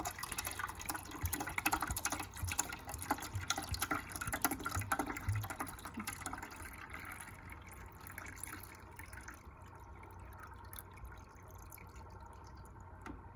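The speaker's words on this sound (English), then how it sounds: "Now I'm just going to fill some water. This is filtered tap water." Filtered tap water pours into an AeroGarden indoor hydroponic planter, a steady close trickling and splashing that runs for several seconds, then gradually thins and quiets toward the end, with no talking.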